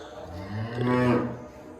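Cows and calves lowing on a Punjabi dairy farm on a cold day, one long, fairly close moo that swells in the middle, with no talk.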